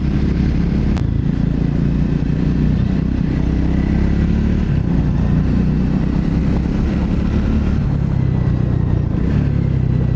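A Scrambler 400 motorcycle rides along with a steady, loud low engine drone and wind rush that barely changes throughout, with no distinct downshift surges standing out.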